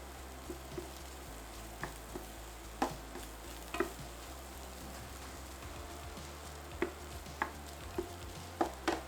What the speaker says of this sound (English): then mix well to coat the corn